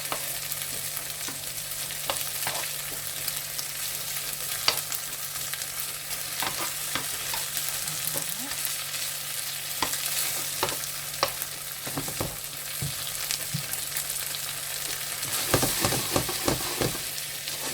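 Malai chicken tikka sizzles in cream and chilies with a continuous frying hiss, broken by scattered sharp spatters and stirring scrapes, with a busier burst of crackles near the end.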